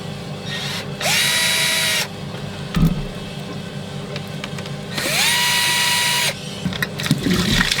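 Two bursts of a power drill spinning up to a high steady whine and running for about a second each, close and loud, while working on a dirty pump, with clunks and handling noises in between.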